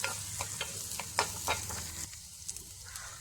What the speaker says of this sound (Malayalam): ഉഴുന്ന് പരിപ്പിടാൻ മറന്നുപോയി, അതും കൂടി ഇട്ട് കൊടുക്കാം. അത് ഉള്ളിയുടെ കൂടെ ഒന്ന് മൂത്തുകൊള്ളും.